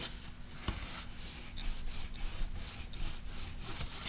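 Paper being scored for a DIY Christmas mini album, a run of soft, close scraping and rubbing strokes repeating in a steady rhythm, with one sharp tap near the start and no talking.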